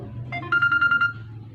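Mobile phone ringtone for an incoming call: a short, loud electronic melody of quick repeated bright beeps, lasting about a second, over a low background hum with no talking.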